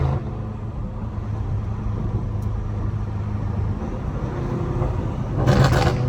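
A 650hp BMW M5 Competition accelerates under part throttle, heard as a smooth low engine rumble that swells a little toward the end.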